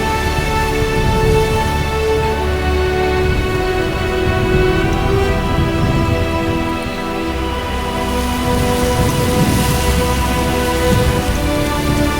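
Wind and rain sweep across the Ballyhouras hills in cold, wet weather, with a loud, steady wash of rainfall and gusting air that carries on throughout.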